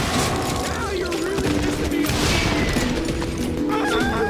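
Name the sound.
gunshots in the video game Call of Juarez Gunslinger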